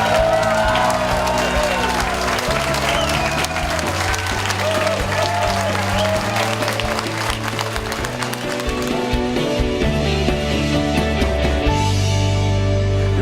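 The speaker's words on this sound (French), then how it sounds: "applaudissez chaleureusement les finalistes et les lauréats de la 12e édition du concours de création littéraire" Warm, sustained applause from an audience greeting the finalists and laureates of a literary creation contest, dense steady clapping throughout with a murmur of crowd noise and music underneath.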